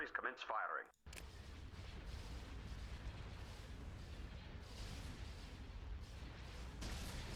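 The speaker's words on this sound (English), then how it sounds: "Batteries commence firing." Capital ship laser batteries open fire in a Star Wars space battle game, a dense continuous rumble of booming blasts after a brief sharp opening sound, loud and sustained throughout.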